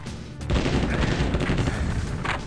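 Rapid bursts of Super Uzi fire from the Terminator Skynet video game crackle loudly and continuously, a dense automatic rattle that starts abruptly and fills the whole moment.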